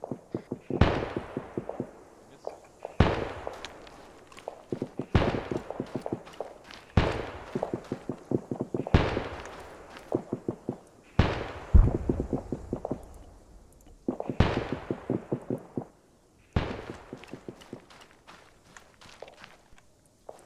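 Gunfire in the military shooter Arma 3 during a team operation: repeated sharp shots in bursts spaced every couple of seconds, each followed by a decaying echo, fairly loud, with no voices over it.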